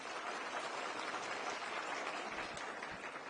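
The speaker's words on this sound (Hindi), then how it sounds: "एक बार जोरदार तालियां भाई।" Faint, distant audience applause at a public government event with the Delhi chief minister, a soft steady patter of clapping lasting a few seconds.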